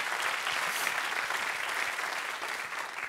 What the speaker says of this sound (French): allez-y, vous pouvez m'applaudir.